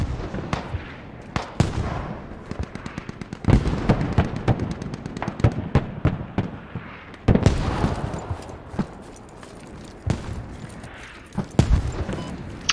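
Mortar rounds explode in the video game Squad, a rapid, irregular series of sharp booms and cracks, some close and loud, others more distant, continuing throughout.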